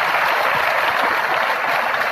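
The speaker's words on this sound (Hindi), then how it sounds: "मैं चाहूँगा इन बच्चों के लिए एक जोरदार ताली से बच्चों को इस्तकबाल।" A large gathering applauds to welcome children at a Rashtriya Ulema Council event, producing dense, steady clapping that fills the whole stretch without pause.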